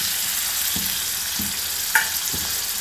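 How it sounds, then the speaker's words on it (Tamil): Pieces of mango ginger sauté in hot oil for a pickle, making a loud, continuous close sizzle with a few stirring scrapes and one sharp clink of a utensil. "நல்லா வதக்கணும்."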